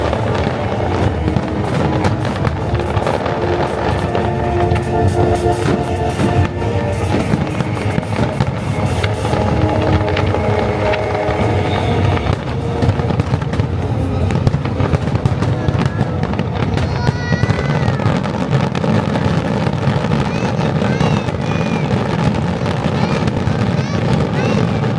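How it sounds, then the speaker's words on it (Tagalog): Fireworks at a pyromusical competition crackle and burst continuously over accompanying music, with dense rapid pops and booms and a crowd faintly audible throughout. "Fireworks."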